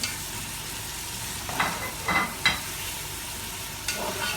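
Spices, salt and pepper being stirred into onions frying in a pan for Saudi-style lamb kabsa, a steady sizzle with a few scraping stirs of a spoon against the pot.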